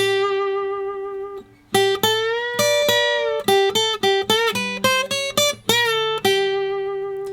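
Electric guitar playing the opening line of a solo, a sustained note followed by a run of plucked, bending notes with country-style phrasing, clear and close with no talk.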